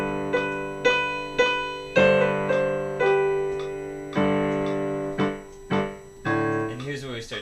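Piano plays the second phrase of Little Drummer Boy as a slow line of separate struck notes and chords, each left to ring and fade. A voice briefly begins speaking right at the end.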